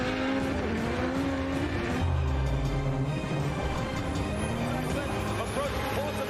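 A Formula Drift car slides through the outside zone during a professional drift competition, its engine roaring loudly and steadily with tire squeal underneath, while a commentator talks over it.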